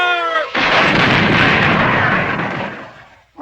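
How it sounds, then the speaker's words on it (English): A cartoon cannon fires with one loud booming blast that rumbles and fades over a few seconds after a brief musical lead-in. "I'll blast them with the cannon"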